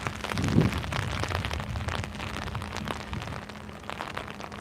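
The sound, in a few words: cold rain falling outdoors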